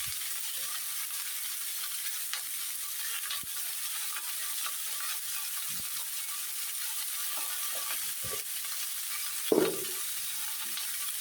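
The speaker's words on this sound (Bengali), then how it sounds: "এখন ভালোভাবে কষিয়ে নেব।" Spices with potato, taro and cauliflower for a fish curry, fried and stirred in a pan with turmeric and salt, a steady soft sizzle with sparse spatula scrapes and one louder knock near the end.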